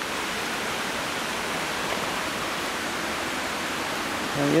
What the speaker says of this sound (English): I can hear the river down by here now